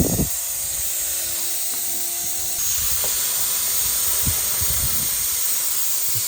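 Continuous close hissing of steam venting from a leaking thermostat housing on a parts truck engine, loud and unbroken, with a faint low mechanical hum and a few small knocks underneath.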